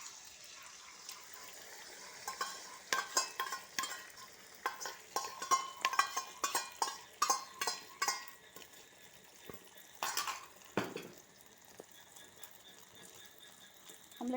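Beaten egg for an omelette frying in hot oil in a pan, a soft steady sizzle under repeated scraping and stirring clinks of a utensil against the pan, close and fairly quiet.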